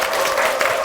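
A congregation at Hwapyeong Church claps to welcome a deaconess to the stage, a short, even burst of moderately loud applause in a church setting.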